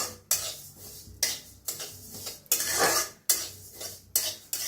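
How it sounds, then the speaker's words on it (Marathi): A spoon stirs sesame seeds roasting in a dry pan, a series of sharp scraping strokes on the metal about once a second, each followed by soft rustling of the seeds, with no talk. "तर तीळ चांगलं भाजून घेऊया, तीळ लगेच भाजतात"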